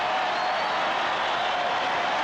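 A stadium crowd at an NFL game between the Detroit Lions and the Green Bay Packers reacts to a missed field goal with a loud, sustained roar that holds steady throughout.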